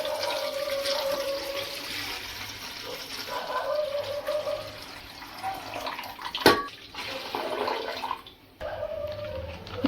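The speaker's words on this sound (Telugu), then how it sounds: "అందులో ఈ స్టాండ్ ఇలా పెట్టి ఇందులో వాటర్ వేసుకోవాలి" Water pours into a large cooking pot with a stand set inside it, a steady splashing gush that rises and falls, broken by a sharp metallic clank partway through.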